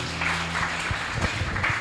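A church congregation claps together in a Gujarati Christian service, a steady patter of many hands through the whole stretch, with a faint voice underneath.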